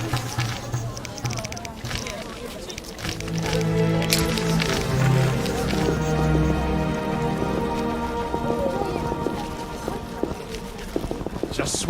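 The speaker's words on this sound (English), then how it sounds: "Just what we needed. Rain?" Steady rain falls in The Witcher with a dense, even patter, along with a few footsteps and thuds, while people talk over it throughout.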